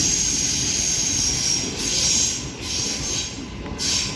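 A B set electric train pulls away from a station platform, a continuous rumbling roll with high wheel squeal and whine rising and falling in waves, no talk.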